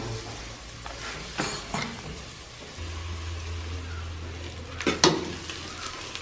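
Onions frying with salt in a pan for chicken curry: a quiet, continuous sizzle with occasional scrapes and clatters from stirring, including a sharper knock near the end, plus a low background hum.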